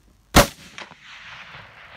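A single loud 6.5 Creedmoor rifle shot fired at a mule deer during a long-range hunt, a sharp crack followed by a brief echo and a long fading rumble rolling across open country.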